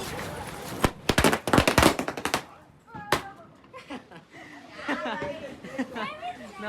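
Diwali firecrackers burst in a loud rapid cluster of sharp bangs, string crackers crackling, then a single pop, followed by people chattering and laughing nearby.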